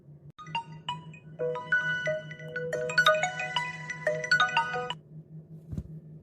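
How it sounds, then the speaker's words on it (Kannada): A mobile phone rings for an incoming call with a bright electronic ringtone melody of stacked tones. It plays loudly over a low steady hum and ends with a short thump, and no one talks over it. "ಯಾರ್ದ ಫೋನ್ ಬರತ್ತಲ್ಲ?"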